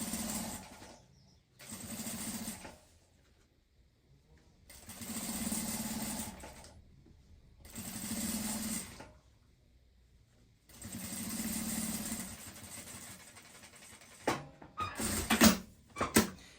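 A sewing machine stitches a triple box-style school pencil case in several separate runs of steady whirring, each a few seconds long, split by pauses and followed by small handling clicks near the end.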